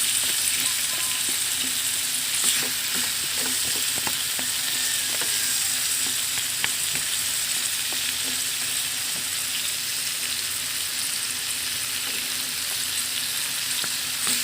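Chicken adobo with added ingredients such as potatoes sizzles loudly and steadily in a pan while being stirred, with light scraping and tapping of the utensil scattered through the constant frying hiss.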